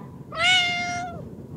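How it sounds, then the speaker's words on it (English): A single clear cat meow, rising and falling over about a second, close and loud against quiet background noise. "they heard a voice of a cat"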